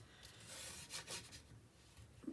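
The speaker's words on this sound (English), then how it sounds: "I'm going to burnish." A paper page of a winter-themed mini album is burnished by hand, giving a few soft, close rubbing strokes with a light dry rasp, heard alone without talk.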